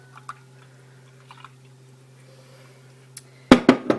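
Coconut milk is poured from a measuring cup into a bowl, a short wet splashing burst near the end after a quiet stretch with a steady low hum.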